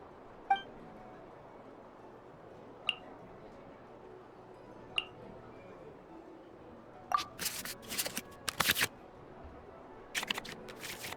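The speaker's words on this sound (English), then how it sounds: "we can select any number of cards in our hand to shuffle back into the draw pile, and then draw the same number of new cards" Cards from a hand are shuffled back into the draw pile in the Genshin Impact Genius Invokation TCG card game, heard as a few soft isolated clicks followed by a cluster of quick crisp swishing card effects near the end.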